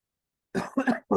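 A man gives a few sharp, close coughs in quick succession after a moment of silence, with no talking.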